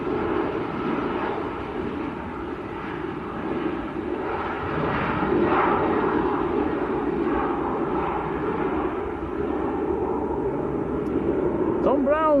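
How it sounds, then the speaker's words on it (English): A Turkish Airlines Boeing 737-900 jet at Manchester Airport makes a steady, broad engine roar that holds at an even level for several seconds, heard from a distance with a voice talking over it. "Turkish to Istanbul, that is a 737-900 series."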